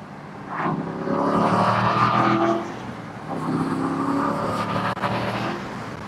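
A 2009 Aston Martin Vantage 6-speed engine revs loudly in two sustained surges, rising and holding, with a brief pause between them, close by.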